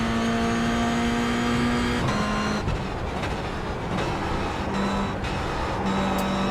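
Race car engines in the iRacing simulator drone and whine at high revs, with shifts and lifts as several cars run close together, loud and steady with no talking.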